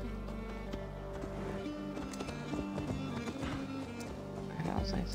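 Horse hooves gallop in Assassin's Creed Valhalla as a rapid, rhythmic clip-clop over steady game sound, fairly faint, with no talk.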